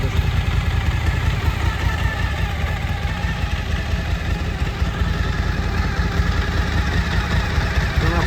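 A 2015 Suzuki DL 1000 V-Strom motorcycle fitted with an aftermarket exhaust idles steadily nearby, a low, even rumbling throb that holds constant without revving.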